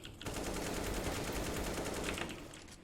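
An M4 rifle fires in a CS:GO free-for-all deathmatch, a continuous burst of fast, even shots that stays loud throughout before tapering slightly at the end.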